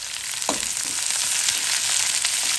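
Black pepper frying in a pan for a prawn curry with taro, eggplant, potato and cucumber: a steady close sizzle with one brief scrape near the start.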